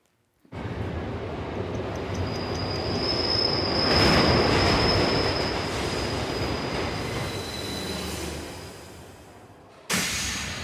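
A Metro subway train runs close by, its steady rumble swelling toward the middle with wheels squealing on the rails, then fading before a sharp new burst near the end; no voices.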